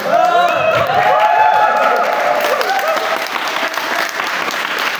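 Audience applause fills a seminar hall during a talk on finishing a final thesis quickly, steady and close for several seconds with voices calling out over the clapping before it eases slightly.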